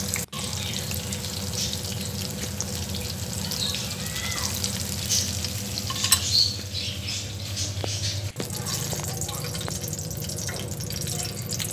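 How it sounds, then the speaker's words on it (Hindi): Eggplant fries in a pan with a steady, close sizzle and crackle that runs unbroken throughout, with a few faint clicks and no talking. "यहाँ पे हमारे बैंगन बनते हैं"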